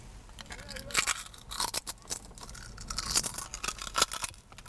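Close, crisp crunching of thin cheese-flavored potato chips being bitten and chewed, with sharp irregular cracks in quick succession over a few seconds.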